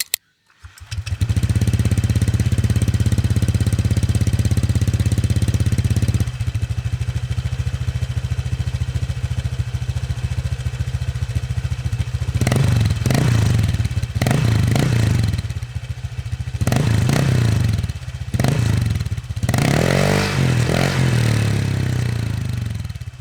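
A motorcycle fitted with an MT8 exhaust pipe, about a year in use, starts up and idles loudly, then its engine is revved in several sharp bursts over the steady idle.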